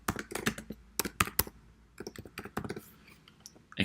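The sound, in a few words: typing a pipeline name on a computer keyboard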